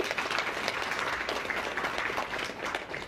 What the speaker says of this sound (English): Should we give Haley a big round of applause?